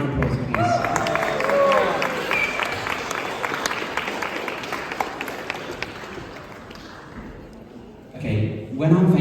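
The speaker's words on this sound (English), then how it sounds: "Round of applause, please." Wedding reception crowd applauding after thanks for the decorations, clapping and cheering that builds early, eases off, then swells again briefly near the end.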